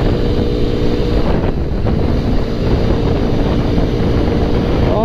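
A car speeds along a road between Tanjung Pinang and Batam at about 98, its steady engine roar and heavy wind rush loud and continuous throughout, with no talk.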